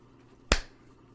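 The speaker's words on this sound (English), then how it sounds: "I'm going to clap again." A single sharp hand clap, close and loud, standing alone against quiet room tone with a brief decay.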